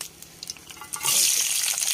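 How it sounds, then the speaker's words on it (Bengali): Onion, garlic and green chili dropped into hot mustard oil, a quiet clatter of stirring giving way to a sudden loud, steady sizzle that fills the rest of the moment. "এখন আমি দিয়ে দিব পেঁয়াজ, রসুন আর কাঁচা ঝালটা ভেজে নিব সরিষার তেলের ভিতরে"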